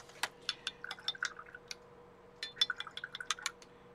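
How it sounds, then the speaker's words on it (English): A paintbrush rinsed in a jar of water while watercolor painting, close, light splashing and tapping drips in two short bursts separated by a brief pause, with no talk. "get my brush rinsed out here"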